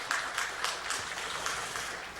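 Congregation applause during a Sunday church service, a soft continuous wash of clapping with slight swells, fairly distant and without talk.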